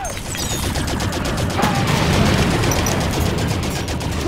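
Sustained heavy gunfire in Halo 5: Guardians, a dense rattling barrage of rapid shots and impacts that runs steadily and loudly throughout.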